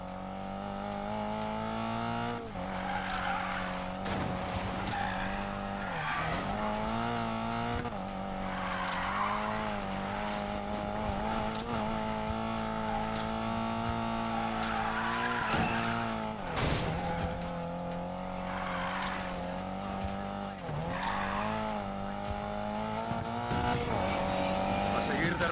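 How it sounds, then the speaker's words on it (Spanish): Cars drifting in the racing video game Need for Speed Payback, with a steady engine drone, long squealing tire skids and revving surges running continuously under a loud, layered game soundtrack. "A seguir derrapando."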